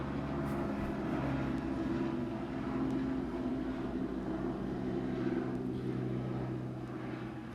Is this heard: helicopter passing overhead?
yes